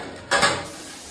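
A metal lid lands on a pot of rice cooking for chicken dum biryani, giving one short, sharp clank with a brief rattle, then a quiet simmering background.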